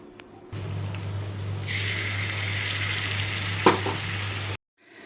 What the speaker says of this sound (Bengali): এই আদা রসুন বাটাটা দিয়ে আমাদেরকে ততক্ষণ অবধি ভাজতে হবে